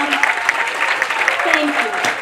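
An audience at a film festival panel discussion claps steadily for the Cervantes Institute director, a dense patter of many hands filling the room without pause.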